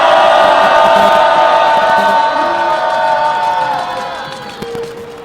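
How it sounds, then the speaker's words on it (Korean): A large outdoor rally crowd at a street protest for repealing a security law lets out a loud, sustained mass shout, a roaring wall of voices that slowly fades over several seconds. "함성을 지르면서 시작하겠습니다."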